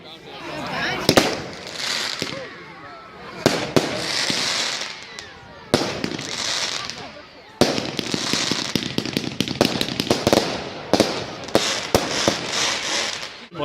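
Bonfire Night fireworks go off in repeated sharp bangs and crackling bursts, some close and very loud, while people talk throughout.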